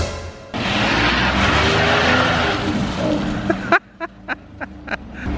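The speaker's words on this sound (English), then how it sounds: "He tried to drift." A pickup truck, a Ford F-150, revs and slides in a drift with a sustained broad roar and tire squeal for about three seconds, then cuts off into a few short sharp bursts and quieter gaps.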